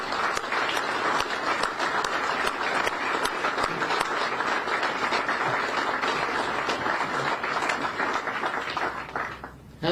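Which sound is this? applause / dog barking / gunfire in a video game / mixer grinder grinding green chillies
applause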